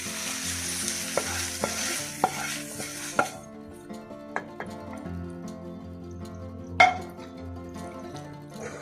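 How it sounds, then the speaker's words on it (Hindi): Gajar halwa mixture of grated carrots, milk and khoya being stirred in a pan on the stove, with a steady sizzle and scraping spoon strokes, louder at first, then quieter cooking with occasional clinks. "मैं इसको अच्छी से मिक्स कर देंगे।"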